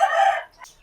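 A kaki nemali fowl, a single bird offered for sale, crows once at close range, a loud drawn-out call that fades into quieter background noise.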